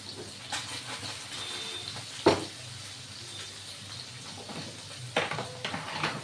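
Potatoes frying in a pan in a Bengali home kitchen, giving a steady, soft oil hiss and sizzle with two sharp utensil clatters against the pan and no talk.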